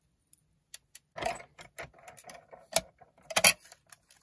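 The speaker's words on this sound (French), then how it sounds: "Je vais découper mon 2 maintenant." Paper is cut out into the number 2 for a birthday card, heard as soft, irregular snips and crisp rustles that come close together in short bursts with brief pauses.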